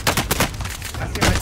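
Video game gunshots, a few punchy blasts in quick succession with a final louder shot near the end, mixed with in-game background noise.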